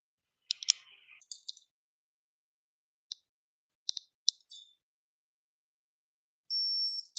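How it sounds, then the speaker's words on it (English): Short high electronic beep from a torque tool or device while frame slider bolts are tightened on a 2023-2024 Yamaha MT-07, with scattered clicks before it and a sustained tone near the end. "I just want to hear the beep."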